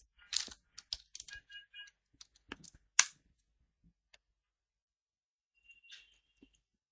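A run of separate key clicks from a computer keyboard as a short search word is entered, close and clear, with a short pause and then a few scattered clicks afterward.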